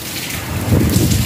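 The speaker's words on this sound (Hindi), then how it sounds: "अच्छी खासी बारिश हो रही है" Heavy rain pours outdoors under thundery, cloudy skies, a brief, loud, continuous broadband wash with no voices.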